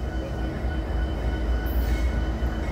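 A CSX freight train rolls past at Point of Rocks with a steady, loud rumble and wheel noise, no voices over it.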